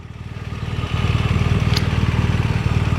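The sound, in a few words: Ducati Monster S2R1000 motorcycle idling with dry clutch rattle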